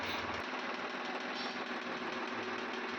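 A new Swaraj 735 tractor, a 2025 model, idles close by with a steady, even diesel rumble and a light mechanical knock.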